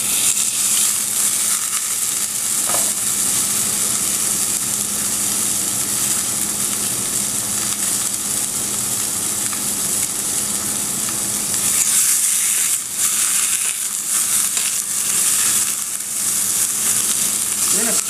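Brined pork sizzles and fries in smoking-hot canola oil in a pan, starting fat side down, with a constant loud crackling hiss that swells slightly near the end.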